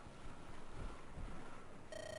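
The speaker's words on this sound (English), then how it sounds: "Look here. An underground river." Underground river in the video game Andaron Saga, a steady broadband rush of flowing water with no breaks, moderately loud and alone, joined near the end by a faint thin tone.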